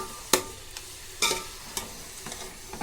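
Chicken curry being stirred in a sizzling pan, with a steady frying hiss and sharp, close spoon scrapes that come at irregular intervals.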